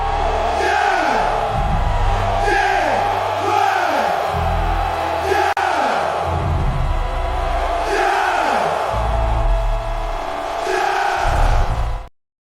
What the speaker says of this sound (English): They're just sitting back there and they're just yelling and cheering.